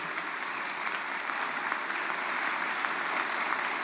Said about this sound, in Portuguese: E uma salva de palmas para Jesus também